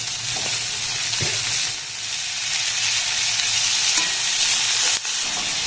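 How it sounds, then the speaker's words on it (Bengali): Beans and carrots fry over a low gas flame in a pan, giving a steady, close sizzle with occasional soft knocks as the vegetables are stirred. "গ্যাসের ফ্লেমটাকে লো রেখে এবার সবজিটাকে একটু নাড়াচাড়া করে ভেজে নেবো"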